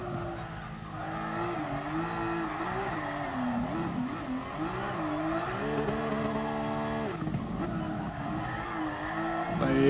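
Car drifting on the Nordschleife in Gran Turismo Sport on soft comfort tyres, with a continuous wavering tyre squeal over a revving engine that rises in loudness toward the end.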